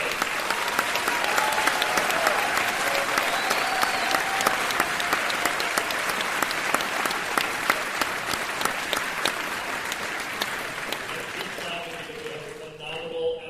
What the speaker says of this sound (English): let's have a huge round of applause for LBJ